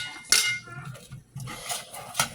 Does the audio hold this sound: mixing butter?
yes